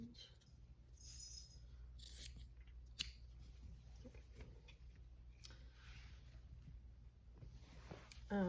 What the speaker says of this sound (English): sometimes I cut both sides, sometimes I just cut one open